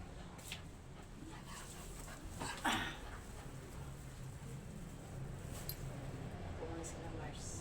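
Dogs whimper and give a few short yips in a home, faint and intermittent beneath someone talking in Filipino throughout.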